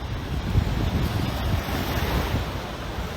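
Ocean waves roll and break on the shore at sunrise in Hastings, a steady broad wash of surf with wind buffeting the microphone throughout, loud and close with no voices.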